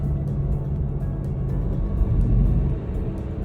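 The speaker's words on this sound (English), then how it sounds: "I love the sounds the muffler is making when it downshifts." A Porsche Panamera GTS V8 accelerating from inside the cabin, a deep steady rumbling engine and exhaust drone that swells slightly toward the end.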